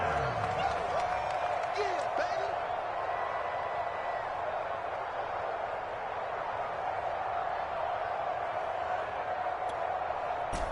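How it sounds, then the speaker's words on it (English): A stadium crowd in the Madden 22 football game roars in a steady, dense wash of cheering and noise that holds throughout, with faint commentary talk underneath. "the crowd getting into it as we come up on a big 3rd down"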